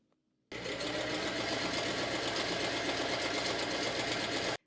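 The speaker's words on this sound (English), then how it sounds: "then sew the bottom of the pocket" A sewing machine stitches the bottom of a satin pants pocket, starting abruptly after a brief quiet moment and then running as a steady, close, even whir.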